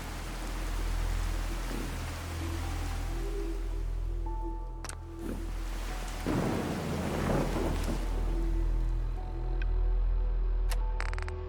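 Rain and rolling thunder in the video game Fallout 4, a steady rain hiss under low rumbling thunder with a louder crack around the middle, plus a few faint electronic blips.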